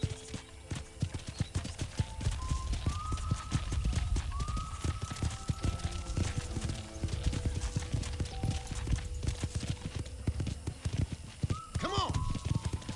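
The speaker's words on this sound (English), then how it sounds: "let's see if you can still ride a horse" Horse hooves clip-clopping at a steady trot across a ranch in the Western video game Red Dead Redemption, rhythmic and close, with a brief whinny and faint game voices underneath.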